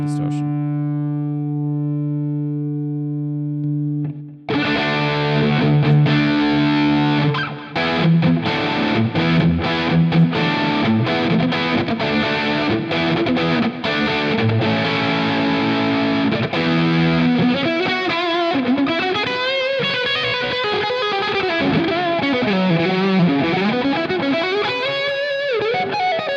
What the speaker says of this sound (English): Yeah, look at that distortion. Heaps of distortion.